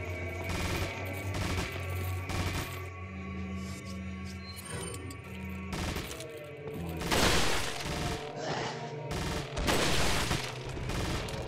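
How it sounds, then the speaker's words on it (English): Repeated gunshots in the video game Resident Evil 4 Separate Ways, bursts of rapid gunfire recurring across the span amid other game sounds, with someone talking over parts of it. "You just have the repeated gunshots."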